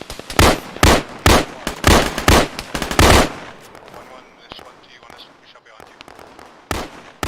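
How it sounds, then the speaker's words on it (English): Loud bursts of rifle and machine-gun fire in an Arma 3 squad training battle, rapid repeated volleys for about three seconds, then scattered distant shots and a final close burst, with faint voices underneath. "Moochies, you shooting at friendlies?"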